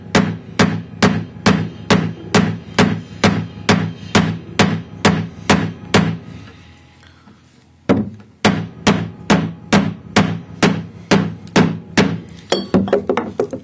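A chisel is hammered into timber to cut a sash window pocket: sharp, evenly spaced woody blows land about twice a second, stop for a couple of seconds, then resume at the same steady pace, close and loud with no voices.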